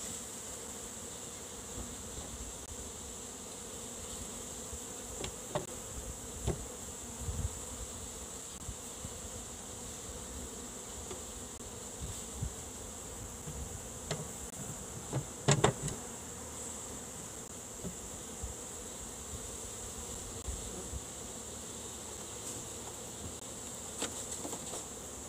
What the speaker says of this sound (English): Nursery bees.